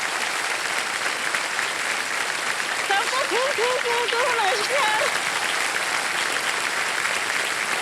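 Studio audience of Kaun Banega Crorepati claps steadily throughout, a dense continuous ovation with a voice greeting briefly over it midway.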